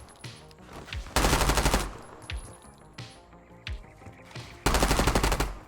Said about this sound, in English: We're going to practice shooting at this square with this sign.